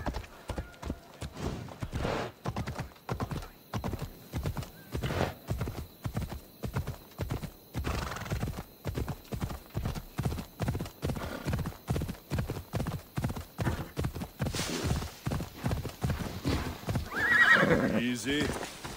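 A horse gallops in Assassin's Creed Odyssey, hooves clip-clopping in a fast, steady rhythm for a long stretch, with a whinny near the end and a voice speaking over it.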